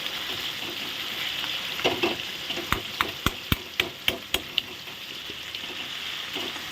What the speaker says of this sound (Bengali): এইদিকে মাছটা ভাজা হচ্ছে